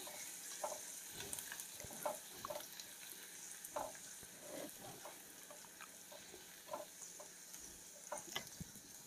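Garlic frying in hot oil for a tadka in a pan, a faint steady sizzle with soft scattered crackles and occasional stirring taps, quiet and without talk.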